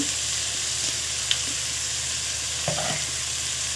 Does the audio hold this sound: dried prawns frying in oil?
yes